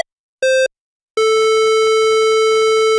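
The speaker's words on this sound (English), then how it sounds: "And I choose to use the pulse wave." A bright, buzzy pulse-wave tone from a Moog Mother-32 synthesizer sounds briefly, stops, then returns as a sustained note with a slightly stuttering texture.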